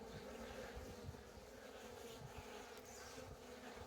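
Honeybees at an opened hive produce a steady, dense buzzing drone that fills the whole stretch, close and continuous with no talking.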